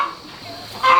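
Chickens in a cage at a Vietnamese market, with a honking, clucking fowl call rising at the end over a steady murmur of background noise.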